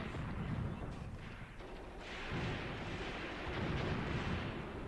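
Sustained gunfire and distant artillery in the WWII tactics game Graviteam Tactics, a rumbling wash of shots and booms that swells louder in the second half, with no talking.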